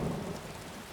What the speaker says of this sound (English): Let's run in the rain.